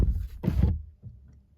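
Door of a 2022 Peugeot 508 PSE swinging shut, a single solid thud followed by a short softer latch sound, heard close with no talking.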